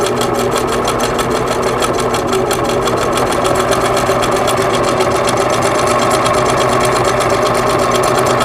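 A Singer 2000 sewing machine stitches appliqué onto quilt fabric, its needle hammering in a fast, even rhythm that runs continuously and loud, close up, without pause.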